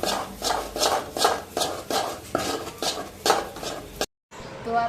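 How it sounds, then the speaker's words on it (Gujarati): A spoon stirs cardamom powder into a thick milk peda mixture in a pan, making rhythmic scraping strokes about twice a second, close and fairly loud, before the sound cuts off abruptly. "તો હવે આપણે એમાં નાખી દઈએ એલચીનો ભૂકો અને મિક્સ કરી દઈએ"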